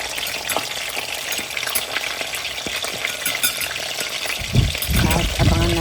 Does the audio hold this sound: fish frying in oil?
yes